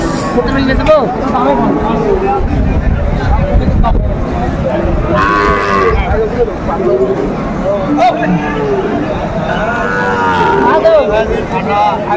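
Shahiwal bulls and cattle moo loudly and repeatedly at a crowded Faridpur bull market, long lowing calls rising over steady crowd chatter and talk.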